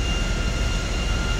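A plane's engine in the video game GTA 5, a steady loud droning roar with no break, heard alone for a short moment.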